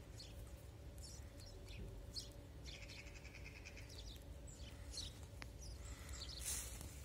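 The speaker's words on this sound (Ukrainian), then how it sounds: "Бачите, горобців багато." Many sparrows chirp from weigela bushes in the Carpathian foothills around Truskavets, a dense, steady twittering of overlapping calls at close range against a low background rumble, with no talking.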